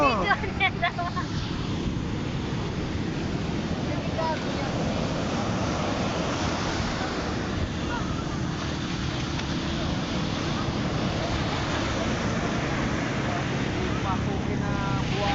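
Ocean waves washing onto a beach, a continuous rushing surf roar with wind buffeting the microphone, while people chat and laugh nearby.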